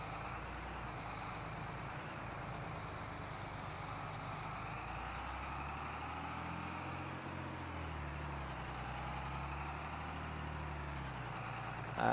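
Tractor engine idling in the video game Farming Simulator 22, a steady low diesel drone with faint wavering hum, constant and unbroken for the whole stretch, no talking.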